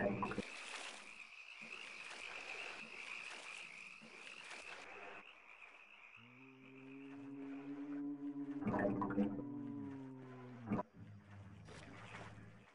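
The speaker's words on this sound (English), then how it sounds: "A frog, apparently." A frog croaks in the game They Hunger, giving deep, resonant, drawn-out croaks in several bursts over a steady high insect-like ambient tone that fades midway.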